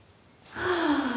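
A single breath out during a yoga session, a soft airy exhale rising in over about a second, close and alone without talk.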